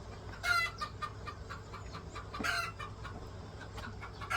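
Chickens cluck close by in a rural Thai yard, with a few sharp louder calls standing out over a steady low background.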